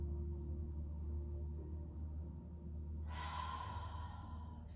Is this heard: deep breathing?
yes